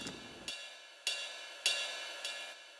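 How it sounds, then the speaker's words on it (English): Five bright, shimmering metallic strikes of a ride cymbal at a steady moderate pace, each ringing and decaying before the next, played alone. "Then we have this little ride cymbal."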